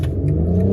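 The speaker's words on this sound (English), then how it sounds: "We'll do one more launch now that it is clear." A 2021 BMW X3 M40i launching hard in sport mode, its engine a loud, steady low rumble throughout the brief burst, close and with no voices over it.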